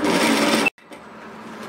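Sewing machine stitching through fabric while sewing a reusable two-cup item, a steady close whir that cuts off abruptly, then restarts more quietly after a short gap.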